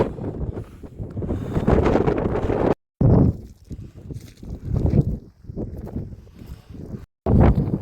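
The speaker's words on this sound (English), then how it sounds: "Don't even know whether you can hear me with the wind." Gusty wind buffets the microphone on a mountain path up Mount Snowdon, roaring loudly in long surges with brief drops to near silence, no clear speech over it.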